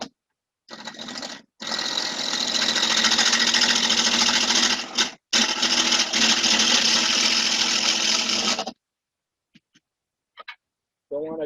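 Wood lathe spinning a three-sided bowl blank with a tool cutting it, loud close continuous whirring and buzzing in two long stretches broken by brief pauses, then silence and a short voice at the end.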